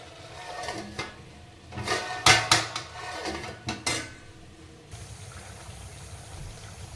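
A metal lid clatters onto a pot of mutton with cucumber, several sharp clanks and scrapes in a quick cluster, close and fairly loud, then a quiet simmering hush.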